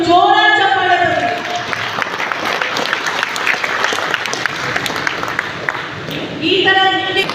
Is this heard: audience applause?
yes